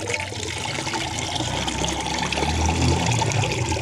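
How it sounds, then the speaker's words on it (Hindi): Liquid homemade watermelon peel fertilizer pours into a vessel of plain water in a loud, continuous splashing gush that swells slightly toward the end, with no voices. "ऐसे बिल्कुल आप इसे सादा पानी के अंदर ऐड कर दें।"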